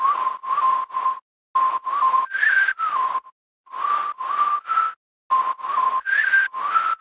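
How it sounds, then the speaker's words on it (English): A series of short, clear whistle sound-effect tones in a future house music track, in a rhythmic pattern, grouped in bursts with brief pauses, mostly on one pitch with occasional higher notes. "Also on the second drop I added a whistle sound."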